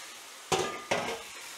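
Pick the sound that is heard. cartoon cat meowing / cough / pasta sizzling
pasta sizzling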